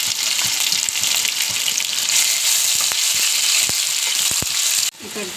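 Onion, garlic and ginger paste fry in hot oil with a loud, close, continuous sizzle and occasional stirring taps, which drops off sharply near the end.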